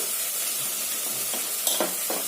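Spices and aromatics fry in a pan for Kashmiri rogan josh with a steady close sizzle, while a few brief scrapes of stirring come near the end.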